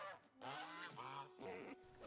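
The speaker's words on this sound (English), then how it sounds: "pacify the geese" Cartoon geese honk loudly and nearby in a few harsh, nasal calls, one after another.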